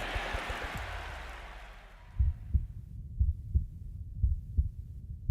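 A pounding heartbeat sound effect in a radio advert: a fading whoosh gives way to a steady series of deep, thudding double beats, loud and alone.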